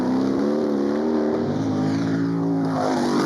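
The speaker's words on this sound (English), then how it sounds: "8-litre Chevrolet Can-Am monster, and he is really aggressive with it" An 8-litre Chevrolet-engined McLaren M8F Can-Am race car at a hillclimb blares loud and close, its big V8 revving hard throughout with a deep, steady roar and no speech.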